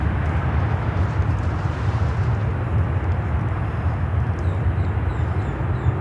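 A DHL Boeing 767-300 cargo jet passes overhead at Miami airport, a loud, steady broadband engine roar with a strong low rumble that holds throughout without fading.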